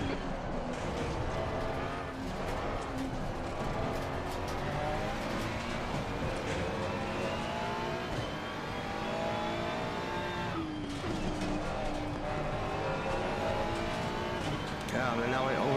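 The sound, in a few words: race car lap at Zandvoort in VR sim racing game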